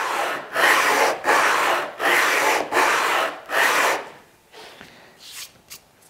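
Five steady back-and-forth strokes of 80-grit abrasive rubbing across the sole of an old wooden hand plane, each a rasping scrape with short pauses, then a few fainter scuffs and light taps.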